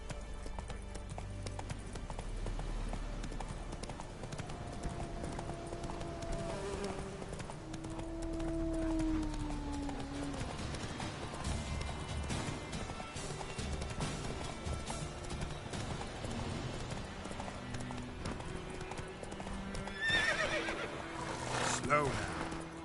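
Roach the horse in Witcher 3 gallops with steady rhythmic hoofbeats and gives a loud neigh near the end, with game music and a voice talking.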